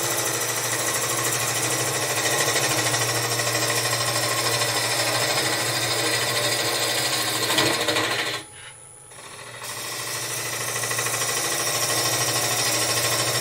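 A wood lathe spins a goblet blank while a tool cuts and reshapes the top, a steady harsh whirring scrape that drops out briefly near the end before resuming, close and continuous with no talking.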